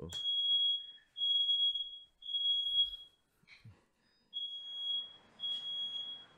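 A shrill smoke alarm sounds in repeated long beeps with brief pauses, alongside a few faint knocks and a short hissing noise near the end.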